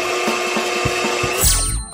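A kitchen blender loaded with watermelon flesh and chocolate is switched on, its motor whirring up in a brief rising burst near the end over steady background music.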